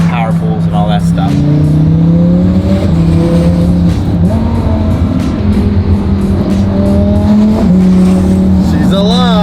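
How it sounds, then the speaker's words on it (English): A rebuilt twin-turbo Lamborghini engine runs loud and close, a steady throaty drone with small shifts in pitch as it idles and revs. "She's alive. Sounding better. Listen to those turbos."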